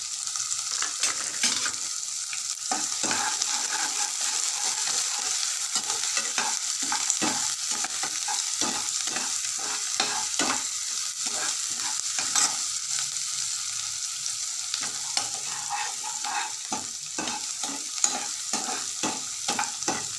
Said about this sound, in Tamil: முட்டைக்கு தேவையான வெங்காயம் நறுக்கி வச்சுக்கிட்டு நம்ம நல்லா வதக்கணும்